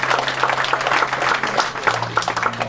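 A crowd applauds steadily at an inaugural function in Surat, a dense patter of many hands clapping, with a low hum underneath throughout.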